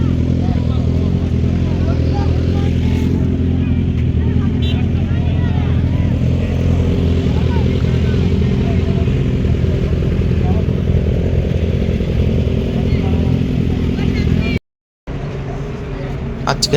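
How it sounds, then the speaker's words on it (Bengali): Superbikes gathered at the Dankuni toll plaza on a Sunday ride, a dense steady roar of engines close by for the whole stretch, cutting out briefly near the end before resuming. "গাড়িতে এখানে সুপার বাইকের ভিড়টা দেখো।"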